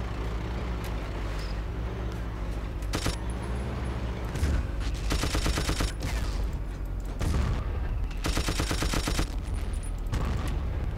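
Rapid anti-aircraft flak fire in Battlefield 1942, two dense bursts of repeated cannon shots standing out over constant battlefield rumble and engine drone, fairly loud and close.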